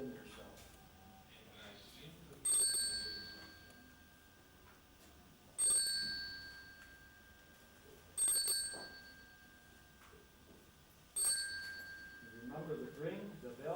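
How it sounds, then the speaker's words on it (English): A bell rings four times at spaced intervals during a guided hypnosis and relaxation session, each clear ding ringing out over soft background sound and quiet talk. "Every time you hear the bell, yes, you will become more and more relaxed."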